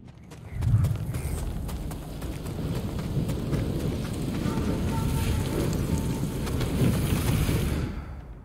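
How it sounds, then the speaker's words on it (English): Steady storm rain in the Ghost of Tsushima video game, a continuous loud wash of rainfall with a deep rumbling swell near the start, lasting several seconds before fading out. "A storm's coming."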